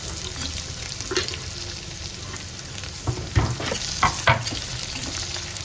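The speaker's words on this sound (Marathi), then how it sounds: "हे मिक्स करून घ्यायचं आपल्याला परतून घ्यायचं आणि नंतर कांदा टाकायचा" Vermicelli for upma is sautéed in a pan, giving a soft steady sizzle with a few louder scrapes and stirring clatters near the middle, with no talk.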